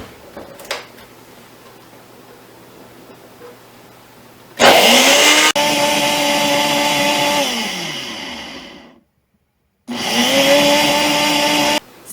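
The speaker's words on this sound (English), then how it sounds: "and I'm going to place this on my blender." A blender whirs loudly blending peppers and garlic, stops briefly, then runs again, its motor pitch shifting as it works; no voices.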